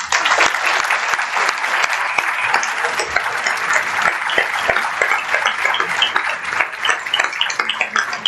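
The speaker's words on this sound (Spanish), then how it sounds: "por favor, un aplauso para los 4." An audience at a conference on democracy in Ibero-America applauds four speakers, dense sustained clapping from a full room, steady and loud throughout.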